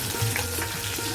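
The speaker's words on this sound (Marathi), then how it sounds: "आता आपण ही जिरे टाकूया फोडणीला" Cumin seeds crackle and sizzle in hot oil as a tempering for sabudana khichdi, a dense, close, continuous frying hiss.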